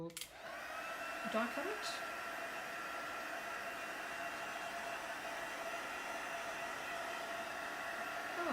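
A heat tool or hair dryer drying a craft card gives a steady, even blowing hiss that starts after a brief thump and runs unbroken to the end. A voice speaks faintly beneath it.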